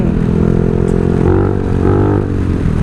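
A Honda Forza scooter revs under heavy throttle, its engine droning loud and close with rising and falling pitch across the whole stretch, no voices over it.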